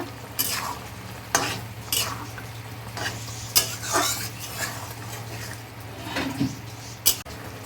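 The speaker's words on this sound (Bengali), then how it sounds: "এবার মাছটা দিয়ে আমি ভালো করে কষে নেব" Stingray fish pieces with potato, onion and green chilies sizzle steadily as they are sautéed in a pan while a utensil stirs and scrapes in short bursts, with occasional clinks against the metal.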